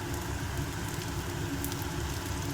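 Raw banana slices fry in a pan of hot oil, making a steady, close, crackling sizzle throughout the short stretch with no voices.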